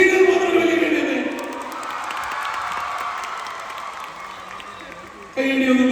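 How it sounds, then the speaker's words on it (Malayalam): Women in a large audience at a Kerala stage event applaud with steady dense clapping and crowd murmur. A voice speaks over the start, and louder sound returns near the end. "ശരി, ഇനി സ്ത്രീകൾ മാത്രം ഒരു വലിയ കൈഡി തന്നെ"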